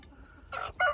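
Hens clucking inside a chicken coop among meat-cross breeding birds, a soft low murmur followed by two short, louder clucks close by, with no talk.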